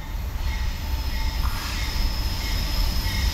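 A CSX freight train led by locomotive 319, in an old lightning bolt paint scheme, rolls past with a steady, loud rumble of wheels and wagons throughout, a faint high tone running above it.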